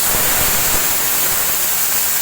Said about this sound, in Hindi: पानी मैंने ऐड कर दिया है